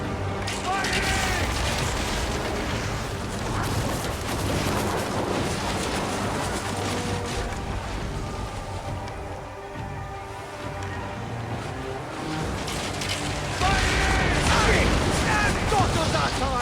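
Ship cannon volleys in a naval battle in Assassin's Creed Origins, a dense continuous rumble of booms and crashing impacts with a swell near the end, shouted crew voices mixed in.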